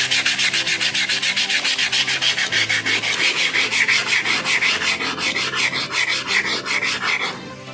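Fine sandpaper scrubs rust off a metal sickle blade by hand in quick, regular back-and-forth strokes. The close, raspy rubbing repeats about three times a second and then stops near the end.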